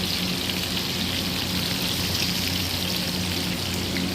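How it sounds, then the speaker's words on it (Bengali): Fish frying in a pan gives a steady, dense sizzle with fine crackling throughout, fairly quiet and unbroken, with no voices. "আমার মাছ ফ্রাই করতেছে এখন।"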